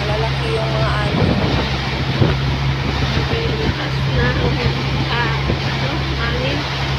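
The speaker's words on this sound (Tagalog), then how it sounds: "Hangin." Strong wind buffeting a small boat crossing choppy sea, a constant rushing roar with a low engine hum underneath and scattered voices faintly present.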